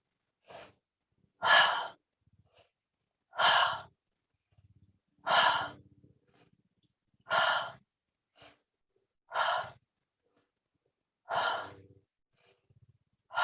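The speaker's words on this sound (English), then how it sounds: "Breathing in, exhale, inhale." Slow, steady breathing during a gentle yoga practice, with long audible inhales and exhales repeating about every two seconds, close and soft, with quiet pauses between breaths.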